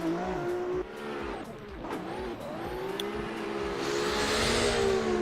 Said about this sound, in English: Mario doing a great job filling out each zones as Kalin is coming in and getting that decel, getting that close proximity throughout that whole inner clip.